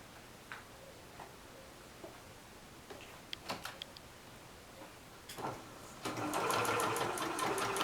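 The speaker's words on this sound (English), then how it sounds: "take it to the sewing machine" After a few scattered clicks and taps, a sewing machine starts up and stitches corner to corner through a rag quilt square with batting in a fast, steady mechanical rattle until the end.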